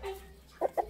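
Silver giro rooster and hens at a breeding farm, with two short, sharp clucks close by near the end over a quiet background.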